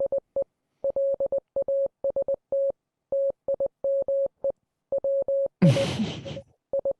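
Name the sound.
Morse code signal played as a hint recording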